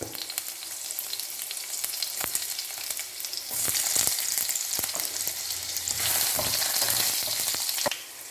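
Chopped garlic and ginger sizzling and frying in a pan with oil while being stirred, a steady crackling hiss with occasional scraping clicks, close and moderately loud.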